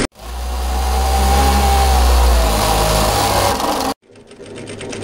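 A sewing machine stitching a cross-back apron, a loud close motor whir running steadily for about four seconds before stopping abruptly, with faint fabric handling afterward.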